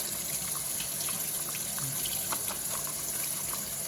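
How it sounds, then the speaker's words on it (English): Water from a kitchen tap runs steadily over a Whirlpool dishwasher filter being rinsed clean, a constant broadband hiss with small splashy trickles, close and alone without talk. "This you could just rinse under here, clean it up."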